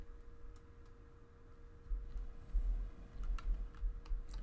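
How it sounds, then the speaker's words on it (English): Computer keyboard keys clack sparsely and then more often while Lunar Lander is played from the Atari Vault collection on PC, the taps close, quiet and irregular over a faint steady hum. "We'll play on the keyboard then."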